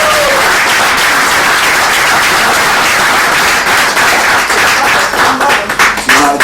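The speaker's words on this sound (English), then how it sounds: "Now give her a round of applause." An audience gives a round of applause for the woman who cooked the meal, dense continuous clapping that stays loud throughout and thins into a few scattered claps at the end.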